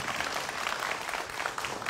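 Audience applause at a Dubai stage event for a Malayalam film team, a brief, dense burst of many hands clapping at once, steady and moderately loud throughout.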